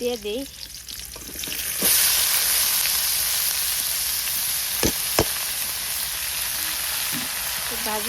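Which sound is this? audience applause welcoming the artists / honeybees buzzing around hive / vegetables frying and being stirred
vegetables frying and being stirred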